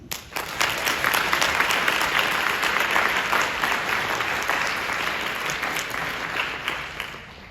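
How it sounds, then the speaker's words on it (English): Graduating Trinity students clap for themselves at an alumnae leadership award ceremony, a full, dense burst of applause from a large crowd that rises quickly and holds steady for several seconds. "You're blazers, so give yourselves an applause"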